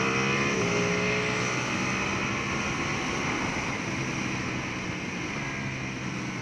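A custom Ducati Panigale V2 motorcycle powers down a track's back straight, its engine a loud, continuous close-up roar with a rising tone early on and steady wind rush.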